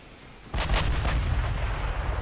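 Warship guns fire in the naval video game Ultimate Admiral: Dreadnoughts, a sudden heavy boom followed by a second blast and a long rumbling roll that stays loud to the end, with no talk.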